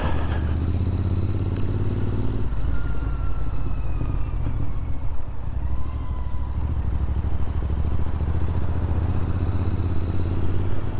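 Royal Enfield Interceptor 650 motorcycle riding through urban back lanes in Barnsley, a steady loud engine drone with low rumble and road roar running continuously throughout, no talking.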